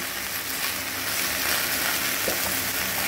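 Water spinach stalks and mixed vegetables fry in a pan with a steady, dense sizzle and an occasional stir, close and continuous with no talk.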